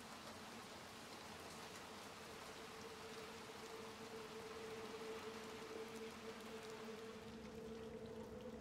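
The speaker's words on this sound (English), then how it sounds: "This rain." Steady, faint rain hiss in the video game Little Nightmares II runs throughout with a low constant hum beneath, without any voices.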